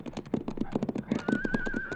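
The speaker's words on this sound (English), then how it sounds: "Listen. Yeah, it's a horse." A horse whinnies in a radio drama, a rising, wavering neigh that carries over a steady run of rhythmic clip-clop hoofbeats, fairly close and loud.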